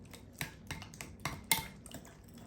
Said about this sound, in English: And then we're just gonna stir it up here.